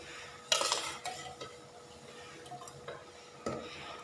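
Fish pieces go into a pot with vegetables for a Thai pot-steamed fish dish, followed by a utensil stirring and scraping against the pot in two louder bursts with softer clinks between, and no talk.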